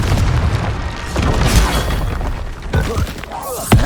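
Spell explosions in the Hogwarts Legacy video game, loud repeated booms and blasts with shattering debris in rapid succession amid combat noise.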